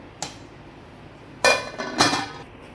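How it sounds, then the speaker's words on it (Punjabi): A metal lid is set on a cooking pot holding soya chaap in hot water, giving three sharp metallic clinks: a light tap, then two louder, ringing clatters about half a second apart. "ਹੁਣ ਆਪਾਂ ਇਹਨੂੰ ਉਪਰੋਂ ਵੀ ਢੱਕ ਦਿੰਨੇ ਆ"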